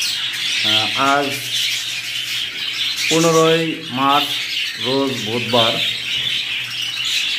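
Pet fancy birds kept in a collection chirp and squawk continuously in a thin, busy chatter behind someone talking close by.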